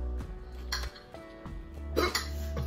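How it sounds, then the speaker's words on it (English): Hiccups follow eating hot peppers (jalapeño, Anaheim, serrano and habanero), with a couple of sharp, abrupt hiccup bursts mixed with short voiced sounds at close range. "My body just has, like, a reaction to hot stuff that just makes me have the hiccups."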